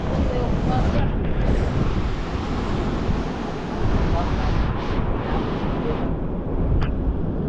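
Steady roar of rough surf and wind fills the whole stretch, loud and close, with gusts buffeting the microphone.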